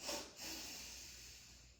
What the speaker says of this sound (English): So 2 big sniffs in your nose.